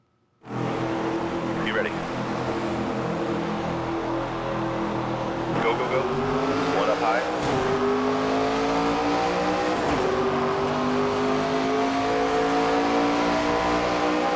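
A NASCAR 25 race car engine fires up from silence and holds a loud, steady drone, rising and falling in pitch as it revs and races. A voice on the radio speaks over it.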